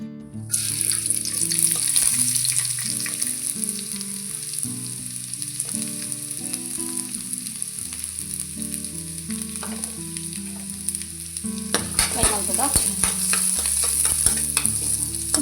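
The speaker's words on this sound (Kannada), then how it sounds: "ಆಯಿಲ್ ಪಾಡ್ದು ಏನು ನೀರುಳ್ಳಿ ಬೆಳ್ಳುಳ್ಳಿ ಬೇವ್ರೇನು ಫ್ರೈ ಮಲ್ತದ ಮಸಾಲಾ ಮಲ್ಪರೆಂಡು" Onion and garlic frying in oil for a masala, a steady broadband sizzle running throughout with stirring clatter, growing busier and louder toward the end; no voices.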